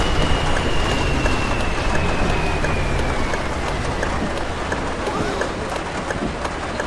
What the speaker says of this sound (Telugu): గట్టిగా పడుతుంది వర్షం తగ్గదు